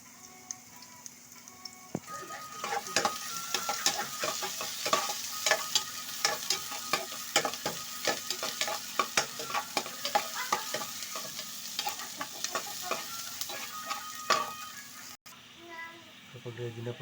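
Ginger, onion and garlic sizzle in a hot pan, stirred with repeated scraping clicks over a steady frying hiss, while someone talks and children's voices sound faintly in the background.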